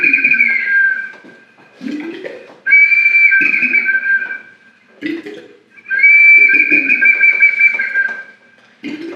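A music-archaeology whistling bottle, a vessel with two closely joined chambers, gives off shrill, steady whistle tones over gurgling bubbles, in three or four loud pulses separated by short pauses.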